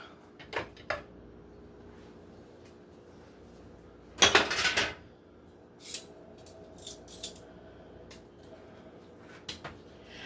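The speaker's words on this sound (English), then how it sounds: "Just gonna get the lid off." Lid clanking off a pot of slow-cooked roast beef for Italian beef, a cluster of metallic scrapes and clatters in the middle amid scattered faint kitchen clicks and knocks in a quiet room.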